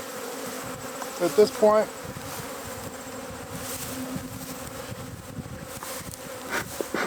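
Agitated honeybees buzz steadily around an open 28-frame hive, a dense continuous hum throughout with a few louder swells near the start, a brief voice passing underneath.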